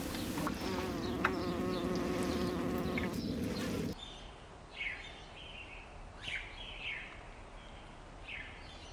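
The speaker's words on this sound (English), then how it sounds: "loads of flowers and birds chirping and bees buzzing" Bees buzz in a spring garden full of flowers, a dense insect hum filling the first few seconds before fading into quieter outdoor ambience with scattered bird chirps.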